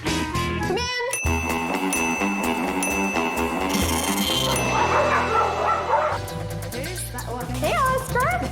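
Several dogs bark, yip and whimper at a fundraising dog party, mixed with upbeat music, people talking and light jingling, with sharp barks bursting out near the start and toward the end.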